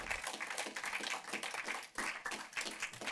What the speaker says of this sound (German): Den Applaus halten wir durch, bis sie vorne sind.